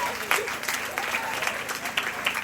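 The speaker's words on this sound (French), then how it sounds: "Alors, on applaudit beaucoup plus fort." Steady applause from a crowd at a ceremony honouring young sports champions, continuous even clapping with a few sharper claps standing out, moderately distant.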